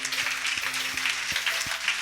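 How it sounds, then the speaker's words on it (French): A church congregation applauds during a Sunday worship service, a steady wash of clapping from many hands filling the room, with a low sustained organ or keyboard chord and soft periodic beats beneath. "Si ça te fait du bien, acclame."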